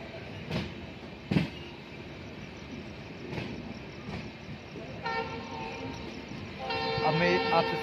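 Kamrup Express train at Naharkatia railway station at night, with scattered clanks and knocks of the coaches over a steady rumble, then a sustained horn toot building toward the end.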